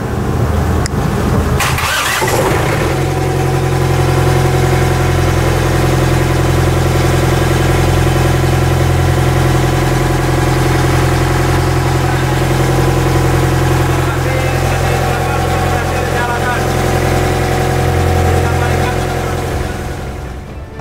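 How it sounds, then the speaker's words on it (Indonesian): A fishing boat's marine diesel engine, just repaired, cranks and catches after a brief burst of starter noise, then settles into a loud, steady, throbbing idle that runs on unchanged for nearly twenty seconds. "Kita akan coba untuk start mesin kapal ikan."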